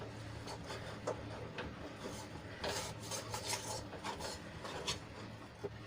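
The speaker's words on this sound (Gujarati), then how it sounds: "લોટ આપણો કોરો નહીં રહી જાય એ રીતે આપણે સરસ રીતે હલાવી લઈશું" Millet flour being stirred in a pan over low heat gives a continuous soft rasping scrape with irregular small knocks, quiet and close, with no voices.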